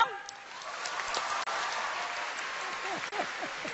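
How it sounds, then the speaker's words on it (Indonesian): Studio audience applause rises steadily at a Mata Najwa talk-show taping after a musician guest is welcomed, a moderate wash of clapping with some voice traces mixed underneath. "Sekali lagi dong, tepuk tangan dong."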